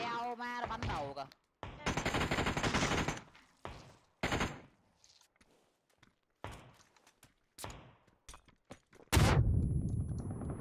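Gunfire in a video game, rapid bursts of automatic shots in several separate volleys, loud and close, with a heavy blast near the end and footsteps between the bursts.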